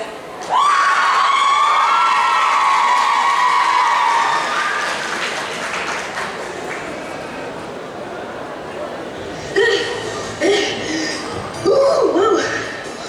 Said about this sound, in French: S'il vous plaît, applaudissez très fort.